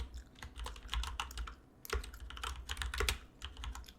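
Steady bursts of typing on a computer keyboard, close and crisp, with clustered keystrokes pausing briefly around the two-second mark before resuming; no talking.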